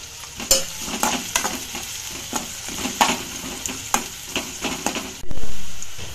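Pepper crab sukka frying in a pan on the stove, a constant sizzle broken by repeated sharp scrapes and taps of a spoon stirring, ending in a louder burst of hissing.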